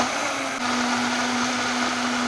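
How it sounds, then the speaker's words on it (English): A blender whirs steadily at full power, crushing ice for a frosé cocktail. The motor hum is loud and continuous throughout, with no voices. "Just throw it all in the blender, blend it up,"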